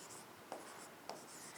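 Soft pen strokes on paper, two brief scratchy marks roughly half a second apart over a faint hiss, close and quiet.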